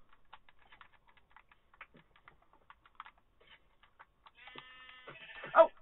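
Keyboard typing clicks through most of the passage, then a near bleat from a sheep in the video game Minecraft rises at the end.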